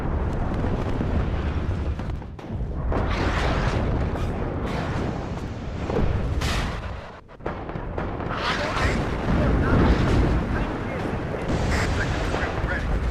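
Booming artillery fire in the WARNO strategy game, dense and continuous with repeated heavy blasts rolling over one another, broken by a brief lull partway, while radio-style voices speak over the barrage.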